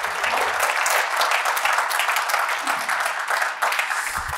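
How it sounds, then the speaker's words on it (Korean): Audience applause at a morning lecture or seminar, steady dense clapping filling the room for about four seconds with no speech over it. "박수 한번 주시죠"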